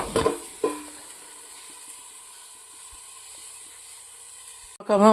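A pan of tomato curry cooks covered on a low flame: a lid clatters at the start, then a faint, steady simmering hiss continues until a voice cuts in at the end.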